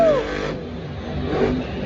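A Monster Jam monster truck engine revs and roars at an arena event in Foxborough, a loud, sustained mid-range drone that rises and falls over its two seconds.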